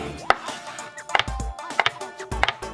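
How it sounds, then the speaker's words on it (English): A knife chops konjac into bite-size pieces on a cutting board, five or six sharp, close knocks spaced unevenly, with soft rubbery squelches between some strokes and no talking. "cut the konjac into one bite size"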